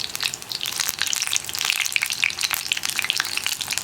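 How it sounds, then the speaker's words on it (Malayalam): Cauliflower bajji fry in hot oil, giving a steady dense crackling sizzle with bright popping bubbles throughout, close and loud with no voices. "ഇതുപോലെ ഇങ്ങനെ ഇട്ട് ഫ്രൈ ചെയ്തെടുക്കാം നമുക്ക്."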